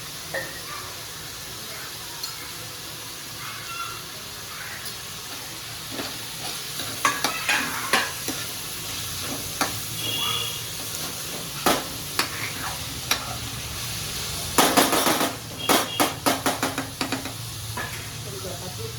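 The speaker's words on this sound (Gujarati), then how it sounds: "હવે એમાં કેપ્સિકમ નાખી દેવાનું." Capsicum stir-frying in a pan with a Chinese-style moong dish over a high gas flame: steady sizzle with repeated sharp spatula scrapes and clacks that grow busier and louder toward the end.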